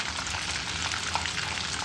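Dry red chillies, green cardamom and cloves frying in hot oil for a dhaba-style chicken, a steady, dense sizzle and crackle that runs unbroken and close throughout.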